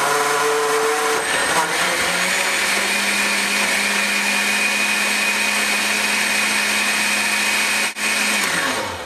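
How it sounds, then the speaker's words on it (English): High-horsepower blender running at low speed on apples, heard as a loud, steady motor whine with a strong grinding roar. The pitch settles early and holds steady for several seconds, then drops away near the end as the motor slows. "And so we'll start blending."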